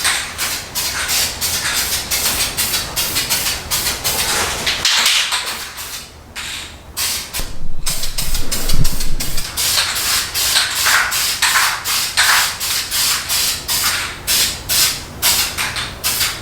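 High heat spray paint hisses from an aerosol can onto a Honda Prelude exhaust in rapid repeated bursts, close and steady, with brief pauses between passes.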